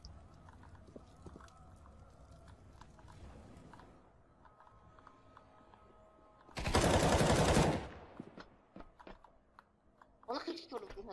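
Gunfire in a shooter video game: scattered shots under ongoing speech, then a loud, dense burst of automatic fire lasting about a second, followed by further sharp clicks and shots as players chat.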